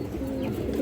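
Female Chuitail Kaldom pigeon chick giving a low, continuous throaty coo, close and fairly soft, with no voices.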